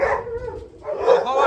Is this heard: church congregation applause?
no